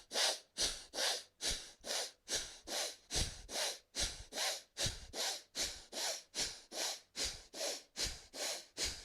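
Forceful rhythmic yoga breathing pumps during a hatha flow session, about twenty sharp nasal inhale-exhale bursts in steady, even succession, close and clear with no talk.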